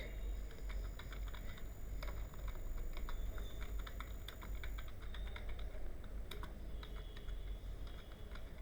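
Keys on a computer keyboard are tapped at a steady pace to type a command into a terminal, producing quiet, close clicks over a low background hum.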